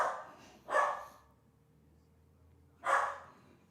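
A dog barks twice, several seconds apart, fairly near, with quiet background between barks.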